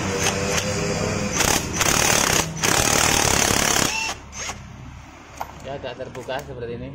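Rough mechanical grinding and rattling from the CVT front pulley of a Yamaha NMAX scooter with a missing ring, loud bursts that rise and drop with engine speed, then lighter chattering near the end.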